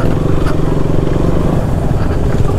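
A motorcycle rolls slowly along a potholed, muddy off-road track in rainy rural country near the India–Bangladesh border. Its engine rumbles loud and close at a steady low pace throughout.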